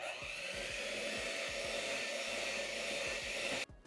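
An electric mixer runs on low, combining batter for a low-carb chocolate pumpkin loaf, with a steady whirring hum and rhythmic clicks of the beaters against the bowl, stopping abruptly at the end.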